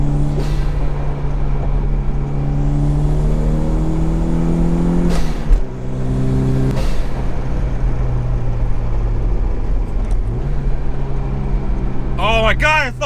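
A Toyota MR2 engine pulls hard through the gears, its steady drone rising in pitch with a couple of shift breaks before climbing again, loud and close from inside the car, with excited voices cheering over it.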